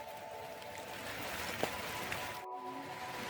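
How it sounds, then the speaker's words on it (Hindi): Steady rain falls on a monsoon mountain trek near a suspension bridge on the Annapurna Base Camp route, a constant hiss with no voices. "बारिश ही बारिश, बारिश ही बारिश।"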